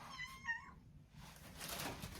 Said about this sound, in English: This cat literally cries for me to come stand here so that she can eat.